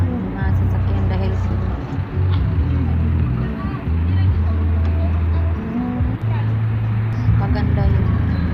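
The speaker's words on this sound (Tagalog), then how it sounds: "maganda yung takbo ng mga sasakyan" Downtown city traffic rolls by on a fine-weather day, a continuous low rumble of passing cars with engine hums rising and falling, heard beneath someone talking throughout.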